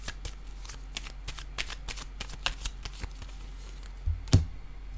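A deck of tarot cards being shuffled and handled up close, with quick crisp riffles and flicks, a brief louder slap near the end.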